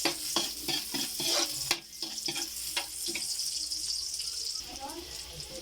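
Garlic and onion frying and being stirred in a pan for chicken paksiw, a soft sizzle with scraping stir strokes and clinks, quiet and close, with faint talk in the background.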